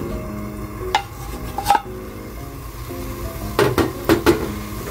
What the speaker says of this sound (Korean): 부엌에 기름을 두르고 양파와 머잇대를 볶아줄게요.